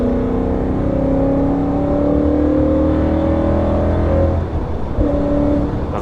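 A BMW E92 M3 with an Akrapovic Evolution exhaust revs, its intake and engine droning loud and close as the pitch climbs steadily, dips briefly, then picks up again.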